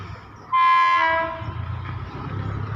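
A Thai train hauled by locomotive 4409 arrives at a station and sounds a loud, harmonic horn blast lasting about a second, followed by the low rumble of the approaching train.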